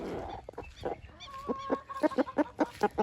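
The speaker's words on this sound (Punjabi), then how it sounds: "ਆ ਫਿਰਦੀ ਆਪਣੀ ਮੁਰਗੀ" A hen wandering around a backyard pigeon loft clucks in short, repeated bursts, sparse at first and then quickening into a steady close rhythm.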